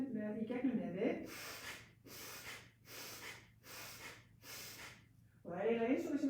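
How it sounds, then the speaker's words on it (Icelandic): Forceful, rhythmic breathing through the nose during a yoga exercise, with five sharp snort-like exhalations in steady succession, placed between stretches of talk. "við erum að gera kröftuga öndun í gegnum nefið"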